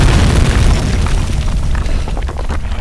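Player character catching fire from a lighter in the video game Penumbra Overture, heard as a loud, dense whooshing roar of flames that rushes up at once and stays strong for a few seconds.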